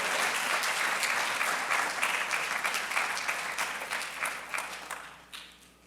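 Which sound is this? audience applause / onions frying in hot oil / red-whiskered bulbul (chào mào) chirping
audience applause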